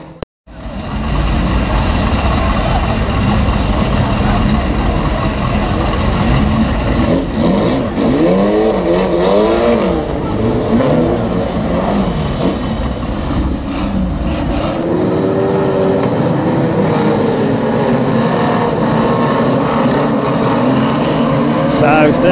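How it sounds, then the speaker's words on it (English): A pack of about 30 two-litre banger race cars roars around the Kings Lynn raceway in a heat, with loud continuous engine drone and revving as cars pass, and commentary running beneath. "Here we go with the two litre bangers in their heat number one."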